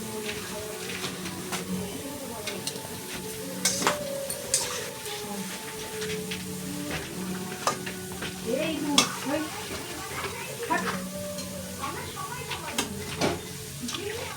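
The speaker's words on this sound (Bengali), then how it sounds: "এইভাবে আমি সব বড়াগুলো ভাজা করে নেব।" Palm fruit fritters frying in hot oil give a steady, close sizzle with scattered stirring and utensil clinks, continuing under intermittent talk.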